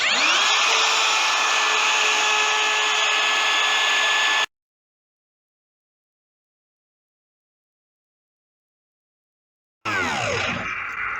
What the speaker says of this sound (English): I won't complete the cavity that I'm routing here.